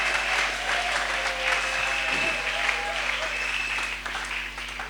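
A church congregation applauds in acclaim of the Lord, a dense, sustained clapping from many hands filling the room, holding steady and easing slightly at the end.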